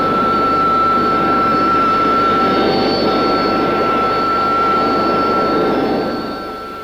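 An AV-8B Harrier II jump jet taxis with its engine running, giving a loud, sustained roar with a steady high-pitched whine on top. The roar eases slightly near the end.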